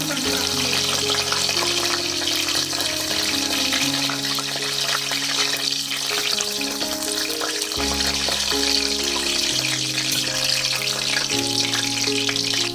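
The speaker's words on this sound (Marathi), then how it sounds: "आता ही लसूण चांगली फ्राय झाली आहे त्याच्यामध्ये मी कढीपत्तेस पाने टाकते" Curry leaves hit garlic already frying in oil for a Malvani prawn curry, making a continuous bright sizzle that runs steadily beneath background music.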